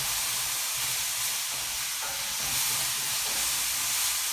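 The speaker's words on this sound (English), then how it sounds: "Just a very quick saute of this bok choy" Bok choy sautéing quickly in a hot pan, a loud, dense, continuous sizzle and hiss close by that holds steady for the whole stretch.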